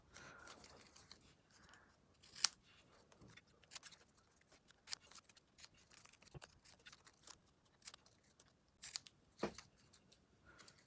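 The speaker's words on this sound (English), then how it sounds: "the next thing to do is to trim off these excess pieces" Scissors trimming the excess paper pieces off a twisted star ornament, with quiet irregular snips and crisp cuts scattered across the stretch, a few sharper clicks standing out against a soft background.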